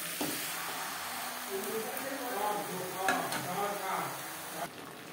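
Chicken with spices cooking on a high flame for aloo chicken curry with bhaja masala, a soft, steady sizzle with the scrape of stirring and brief clinks, faint talk underneath.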